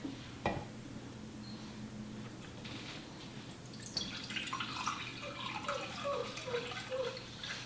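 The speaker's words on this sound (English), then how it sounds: "First, you add the water." About a cup of water pours into a bowl to activate bread yeast, starting with a soft knock and then turning into a quiet trickle and splash that grows busier toward the end.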